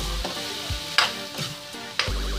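Chopped cauliflower stalks stirred in a pan, a soft frying hiss under three or four sharp spatula scrapes and clanks at the pan bottom, with no talking.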